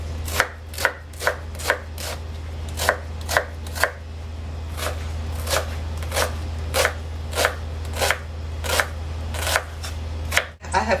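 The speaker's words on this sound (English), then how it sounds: "Now onions should be finely chopped." Onions are finely chopped with a knife on a board, a close series of sharp, fairly regular chops over a steady low hum.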